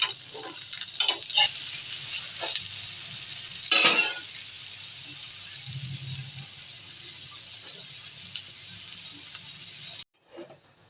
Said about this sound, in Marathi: दोन्ही बाजूने छान असं आपल्याला तूप लावून भाजून घ्यायचं आहे